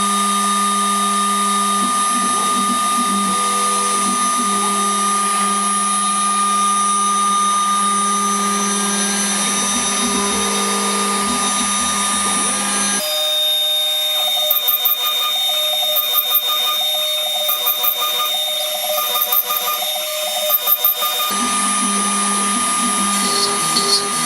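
The spindle of a ShopBot Desktop CNC router with a 1/16 inch end mill mills a guitar body, giving a loud, steady high whine whose pitch and load shift as the cut changes.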